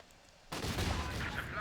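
A World War II strategy video game erupts after a half-second lull into a sudden barrage of rapid gunfire and blasts that continues steadily to the end.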